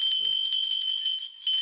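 Bronze and iron bells on a Magar shaman's garment give a steady, bright metallic shimmer and ringing, held close and continuous with a faint soft knock early on.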